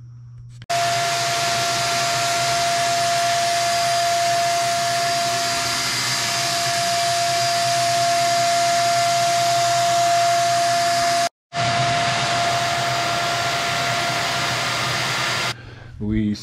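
A paint sprayer coats a large home theatre screen with a loud, steady hissing whine and a constant high tone, running about ten seconds, stopping briefly, then resuming before cutting off.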